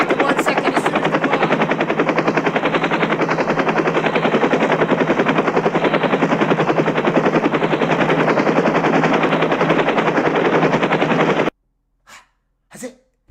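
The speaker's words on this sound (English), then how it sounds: "Those helicopters." Helicopters in the game Operation Status Quo: a loud, continuous thudding rotor drone with rapid regular blade chop lasting about eleven seconds, then cutting off abruptly to near silence with two brief soft bursts.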